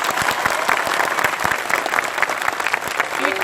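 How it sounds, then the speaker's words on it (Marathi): A dense crowd applauds continuously at a large Basava rally in Nanded, cheering a woman hailed as Mata Nagai, with the clapping steady and loud throughout. "या माता नागाईसाठी टाळ्या"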